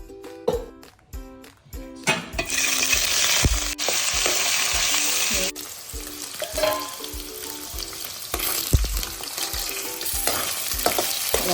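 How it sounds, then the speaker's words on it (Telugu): Paneer pieces frying in a few tablespoons of oil in a kadai on a stove, a steady bright sizzle with clinks and stirring scrapes, close and continuous, with no voices. "పన్నీర్ ముక్కలు కొంచెం గోల్డెన్ కలర్ వచ్చే వరకు ఫ్రై చేసుకోవాలి"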